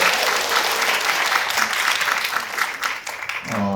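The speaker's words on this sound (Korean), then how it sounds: "네, 박수 한번" An audience at a tarot master's book concert applauds steadily for a few seconds, dense close clapping from a room of people that tapers slightly near the end.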